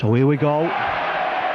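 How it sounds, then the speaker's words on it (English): A rugby league crowd roars as a penalty kick finds touch for Featherstone Rovers against Leeds in a 1988-89 Premiership quarter-final. A commentator speaks briefly, then a steady, broad cheer carries on alone. "at least a big cheer from the crowd"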